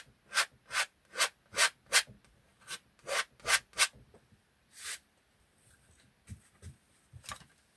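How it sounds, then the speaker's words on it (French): A clean brush scrapes excess paint off a painting in a series of short, rhythmic strokes, about a dozen quick rasping swipes close by, some in fast bursts and others spaced apart. "je gratte l'excédent"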